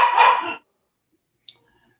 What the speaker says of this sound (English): my baby pup is in there making all kinds of noise